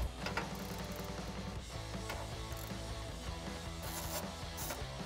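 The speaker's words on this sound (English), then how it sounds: "I'm going to use a 10-inch extension, a ratchet, and a 13mm swivel socket, and I'm going to remove that top bolt" A ratchet with an extension and a 13mm swivel socket works loose a Jeep Wrangler JL exhaust bolt, giving quiet, quick clicking strokes in short runs with a faint mechanical rasp underneath and no talking.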